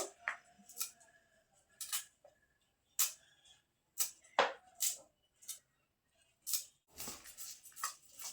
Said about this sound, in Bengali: তো এখন আমি মাছগুলো কেটে নেবো